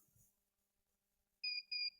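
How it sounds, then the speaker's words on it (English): A digital alarm clock kit beeps as its display reaches 8:00, giving two short, clear electronic tones in quick succession after near silence. "7:59 now, can we go to 8 and beep."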